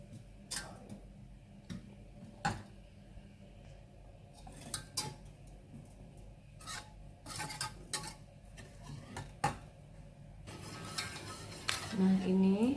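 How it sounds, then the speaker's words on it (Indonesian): A spoon scrapes and taps against a pot while dark cooking chocolate is stirred until it melts, a steady run of light irregular clinks at moderate volume with no talk. "Ini diaduk sampai dark cooking coklatnya meleleh."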